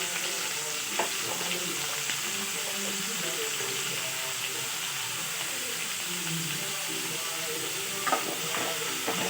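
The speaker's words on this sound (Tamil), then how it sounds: "நல்லா வதக்கி விடுங்க." Onion, tomato and cashews sautéing in hot oil in a pan for paneer butter masala, with a steady close sizzle and occasional stirring scrapes throughout, no talking.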